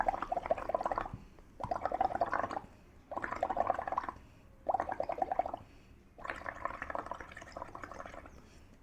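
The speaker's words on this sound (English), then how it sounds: "a fun activity where there is water, soap, and I'm going to blow in it" Bubbling bursts from someone blowing through a straw into a container of soapy water, five separate gurgling blows with short pauses between them, close and fairly soft.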